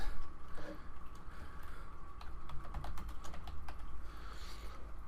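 Quick bursts of clicking keys on a computer keyboard as a video title is typed, close and fairly quiet, with short pauses between clusters of keystrokes.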